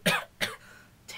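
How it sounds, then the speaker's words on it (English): Two sharp, harsh coughs in quick succession from one nearby person, followed by a fainter third burst just after a second. "I've just tried everything for this terrible cough, and nothing seems to work"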